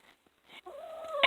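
Chickens clucking inside a backyard coop during a Wisconsin winter, a few short soft calls then a rising, drawn-out cackle close by, with no talk.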